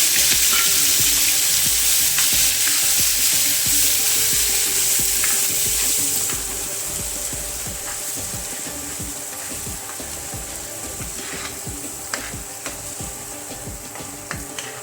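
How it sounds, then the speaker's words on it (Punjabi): Chopped onion fries in a pan for masala aloo matar, a loud hissing sizzle that drops to a quieter crackle midway, with scattered stirring scrapes and clicks, heard up close without speech. "ਪਿਆਜ਼ਾਂ ਨੂੰ ਆਪਾਂ ਜ਼ਿਆਦਾ ਫਰਾਈ ਨਹੀਂ ਕਰਾਂਗੇ ਸਿਰਫ ਇਹਨਾਂ ਦਾ ਕਲਰ ਹੀ ਚੇਂਜ ਕਰਨਾ"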